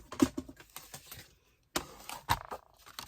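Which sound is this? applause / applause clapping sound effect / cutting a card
cutting a card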